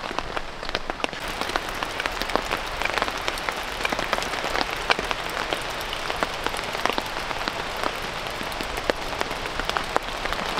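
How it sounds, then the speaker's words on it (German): Rain drums steadily on a tarp shelter during an overnight trek through dense terrain, a dense close patter of individual drop impacts with no voices. "bei uns sammelt sich der Regen in dieser Kuhle so immens"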